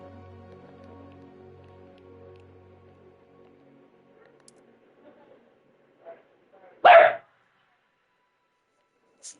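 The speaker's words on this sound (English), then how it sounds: "Please don't mind my dog." A dog gives a single loud, sharp bark after a quiet stretch of faint room noise, with a few soft knocks around it.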